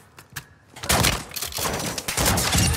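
A burst of rapid gunfire erupts in a Modern Warfare 2 DMZ match, with a few isolated shots first and then dense, sustained volleys that stay loud to the end.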